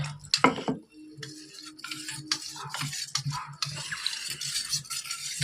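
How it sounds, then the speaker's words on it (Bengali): A spoon stirs cornflour into water in a bowl, with rapid rhythmic clinks and scrapes against the sides, a brief pause after a sharp opening clatter, then steady whisking continuing close by. "কর্নফ্লাওয়ারটা জল দিয়ে গুলে নেব।"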